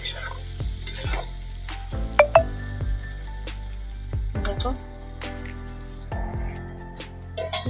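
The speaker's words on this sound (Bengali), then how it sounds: "দেখো মশলাটা কষানো হয়ে গেছে বন্ধুরা দেখো উপরে তেল ছাড়ছে" Spice masala being sautéed in oil for dim aloo potol kosha, with green chillies added, makes a steady sizzle broken by repeated scraping stirs of a spatula and a couple of sharp clinks against the pan.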